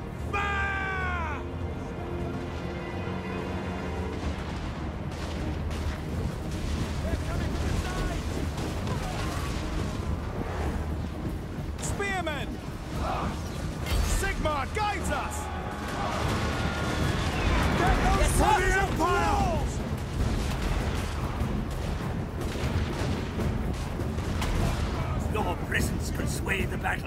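Troops firing a volley in Total War Warhammer, rippling bursts of musket-like shots crackling across the field, rising in a couple of heavier waves over a steady battle din, with shouted commands and voices woven through.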